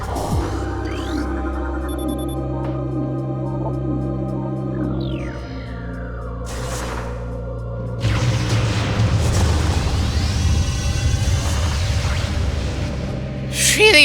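A power bomb goes off in the Metroid Prime video game: after a stretch of low droning game sounds, a loud booming, roaring blast swells in and holds steady as a dense rumble, with synthetic sweeps on top.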